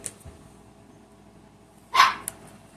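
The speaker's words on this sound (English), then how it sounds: "You're gonna hear the dogs in the background" Dogs barking in the background of a quiet indoor room, with one loud bark burst near the end followed by a brief yip, over a low hum.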